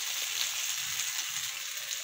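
Beans (chori fali) frying in oil in a pan, giving a steady, bright, continuous sizzle at close range with no talk.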